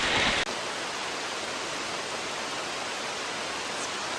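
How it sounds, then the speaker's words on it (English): Heavy tropical rain pouring down in St. Kitts, a dense, steady roar of water that holds constant throughout, loud and close, with no voices. "It's pouring."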